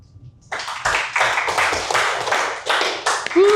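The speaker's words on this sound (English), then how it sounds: "So you guys can give me a quick round of applause for everyone coming up." A live conference audience claps for a panel of real estate experts coming up on stage, a dense burst of applause that starts abruptly, holds steady for about three seconds and builds slightly at the end.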